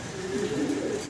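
Fancy show pigeons, dun and blue-bar birds, coo in soft low rolling calls that fill the whole moment, steady and close with no talking.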